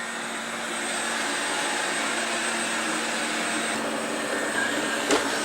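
A Wolkinz Cosmo robot vacuum cleaner runs with a steady, close whirring hum that holds evenly throughout, broken only by a brief click near the end.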